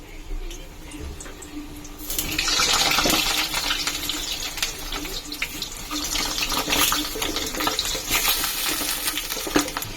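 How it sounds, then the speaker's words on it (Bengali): Potatoes dropped into hot oil in a wok burst into a loud, steady sizzle after a quieter start, with crackles and faint scraping running through the frying. "তেলটা গরম হয়ে গেছে, দিয়ে দেবো এক এক করে আলু ছেড়ে।"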